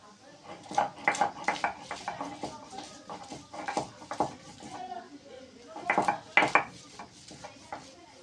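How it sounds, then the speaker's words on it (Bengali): Green chillies crushed on a traditional grinding stone, a rhythmic series of knocking, scraping strokes in uneven clusters, close and moderately loud, with a voice talking faintly in between. "এবার আমি কাঁচা ঝাল বেটে নেব। যে এই কটা কাঁচা ঝাল এটা বেটে নেব।"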